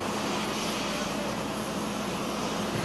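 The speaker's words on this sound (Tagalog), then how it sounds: "lumapag ang eroplano" Airplane landing at NAIA Terminal 3 in Manila, a steady loud engine roar that fills the whole stretch without letting up, with no speech over it.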